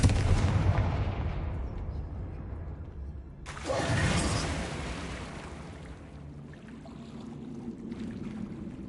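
Confringo fire spell explosions in Hogwarts Legacy: a loud, fiery blast bursts out partway through, then fades into a low, rumbling background.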